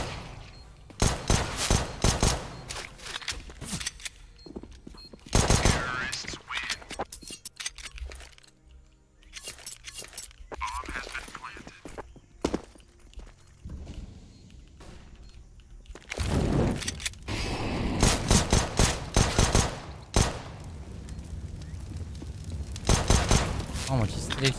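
Dense bursts of gunfire from a Counter-Strike match at the BLAST Major Paris 2023, rapid rifle volleys crackling in clusters across the round, loud and sustained, with casters talking over much of it.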